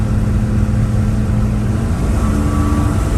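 A Chevy square body truck with a FiTech EFI conversion accelerates hard on a wet highway, its engine a loud steady roar heard from inside the cab with constant road and tyre rumble and no talk.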